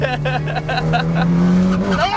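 Mitsubishi WRC rally car driving hard, its engine revving in sharp rising bursts with tyre noise, loud and close, while people talk over it.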